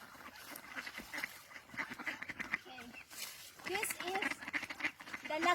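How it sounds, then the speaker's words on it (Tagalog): Wild ducks quack repeatedly at close range in a busy, overlapping chorus while being fed, with a person talking over the calls. "nandito yung mga ducks. Mga wild ducks yan."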